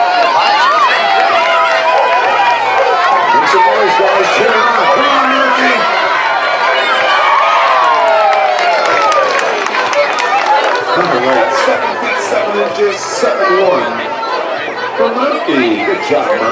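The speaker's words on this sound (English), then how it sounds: "Make some noise, guys. Cheer him on." At a pumpkin festival dock-jumping event, a crowd cheers on a dog, with loud continuous chatter, shouts and whoops from many people close by, and voices talking throughout.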